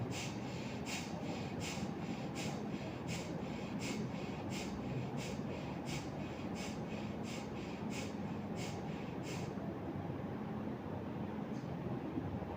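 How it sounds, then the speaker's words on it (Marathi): Kapalbhati pranayam breathing, a series of about a dozen short forceful nasal exhalations in an even rhythm over steady background noise, then stopping. "असं सावकाश कपालभाती करायचं आहे"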